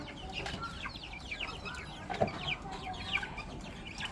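Chickens at a backyard coop cluck softly and continuously at a distance, with scattered short squawks layered over faint background noise.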